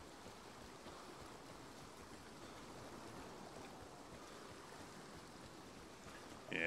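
A river flowing in the Vigor video game makes a steady, faint rushing wash of water that continues unbroken and alone.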